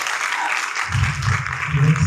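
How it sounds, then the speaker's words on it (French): Audience applauding actors at the close of a stage performance, a steady wash of clapping with a voice speaking over it partway through. "on peut applaudir les acteurs aussi"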